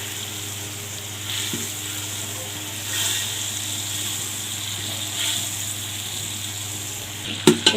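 A tadka for jaggery rice sizzles in hot oil, a steady close frying hiss that swells slightly at moments, with a couple of clinks at the end.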